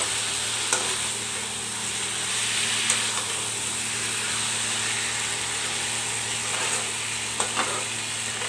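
Dry vegetable sabzi fries in a pan while it is stirred and flipped, giving a steady sizzling hiss with occasional sharp scrapes and knocks from the utensil, close and continuous.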